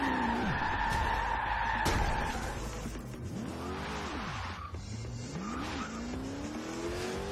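Race car in Forza Horizon 2 crashing after hitting top speed near 400 km/h, with a sharp impact followed by long wavering tire squeals and skidding over a droning engine.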